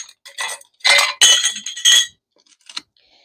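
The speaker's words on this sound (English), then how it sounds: "And then I put the lid on" A lid goes onto a rice storage container with a few sharp clinks and clatters in quick bursts, then a short final tap, close and fairly loud.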